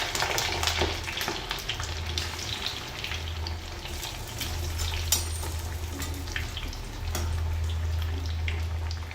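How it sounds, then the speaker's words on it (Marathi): Steady, crackling sizzle of chicken kachori deep-frying in hot oil over low heat, close and continuous, with a low hum underneath and occasional sharper pops. "आता ही मंद आचेवर 5 मिनिटं तळून घ्यायची आहे"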